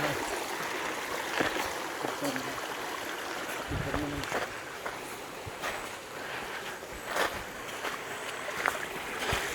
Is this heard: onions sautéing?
no